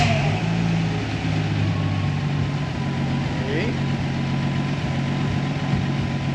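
A Willys engine, started again, idles steadily to warm up, giving a close, continuous low rumble that holds level throughout, with voices faintly present at times.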